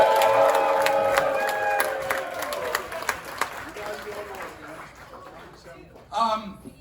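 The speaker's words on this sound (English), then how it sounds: "Let's cheer it." An awards-presentation audience cheers and claps loudly at first, the applause and whoops fading over several seconds, with a brief renewed burst of clapping near the end.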